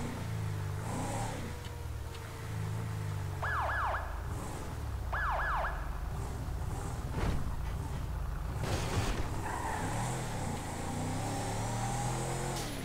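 A police car siren in a GTA video game wails and yelps, rising and falling, with short electronic sweeps and vehicle noise mixed in. It runs continuously at moderate volume with no voices.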